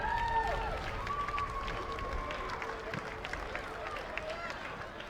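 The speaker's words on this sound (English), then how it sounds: "Give a big round of applause to our two St Brendan's teams." An audience at a school rugby league finals day applauds the St Brendan's teams, with steady moderate clapping, a few cheers and background chatter, somewhat distant.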